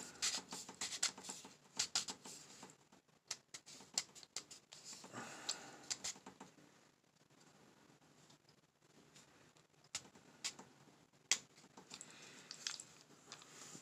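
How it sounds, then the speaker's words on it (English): Rain falls outside late at night, a faint, uneven patter of soft drips and occasional sharper taps with no voices. "It's raining."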